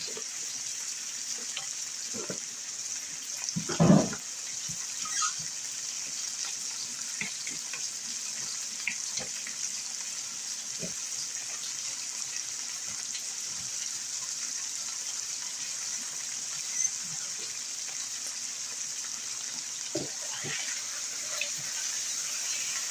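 Tap water runs steadily as hands are washed beneath it in a home kitchen while pork ribs in salsa verde are being prepared, a constant hiss with a few louder splashes and clunks near the sink.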